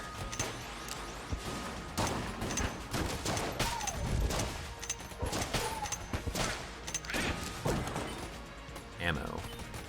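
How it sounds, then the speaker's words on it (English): Rapid gunfire hammers a boss in the bullet-hell dungeon game Enter the Gungeon, a dense run of sharp crashing shots and impacts that keeps going all the way through, with a voice talking over it. "We'll take a million shots at this guy,"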